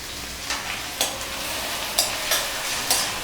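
Tomatoes frying in a pan for mutton masala curry are stirred with a steady sizzle, broken by about five sharp spoon scrapes and clinks spread evenly through the short stretch.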